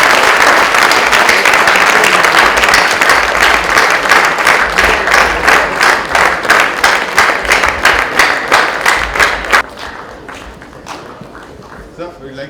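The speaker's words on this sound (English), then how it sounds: "Can we have a big round of applause for the team from Sambram College, please?" An awards ceremony audience gives a team a loud, sustained round of clapping that turns into rhythmic unison beats before fading out near the end.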